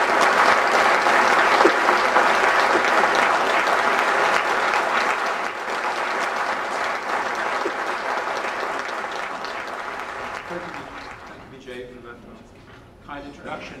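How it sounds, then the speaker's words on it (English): A convention audience applauds to welcome a university speaker, a sustained, loud wash of clapping from a large crowd that slowly thins and fades toward the end. "Please give him a welcome applause."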